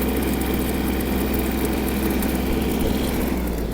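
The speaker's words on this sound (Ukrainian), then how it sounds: "Трактор досить гарно розвертається." A Yanmar KE-50 mini tractor engine hums continuously at a steady, moderately loud level nearby as it turns, vibrating and rumbling without pause or talk.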